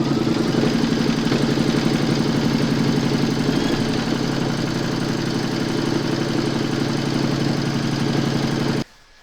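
An embroidery machine sews a satin stitch border through a hoop with backing fabric, a loud, steady, rapid mechanical chatter that continues unbroken for about nine seconds, then cuts off.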